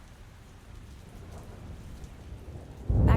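Rain falls steadily outside a carriage house, a soft, even hiss that swells into a louder, deep rumbling surge at the very end.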